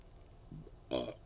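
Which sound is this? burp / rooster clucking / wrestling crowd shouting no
burp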